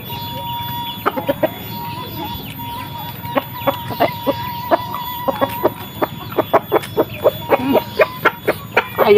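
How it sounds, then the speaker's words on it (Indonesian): Chickens cluck in a rapid series of sharp, repeated calls that grow denser toward the end, close and loud over a low background hum, heard in a Sundanese home kitchen while food is being prepared. "Ayam."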